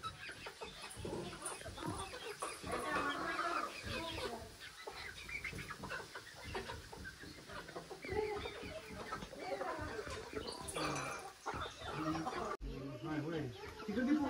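Chickens cluck and a rooster calls nearby amid busy farmyard noise, with people talking over it much of the time.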